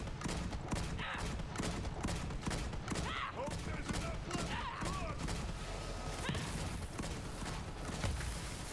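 Enemies shooting at the player in Borderlands 3 produce a steady, dense stream of gunshots throughout, faint and distant-sounding over a busy game background, with a voice talking.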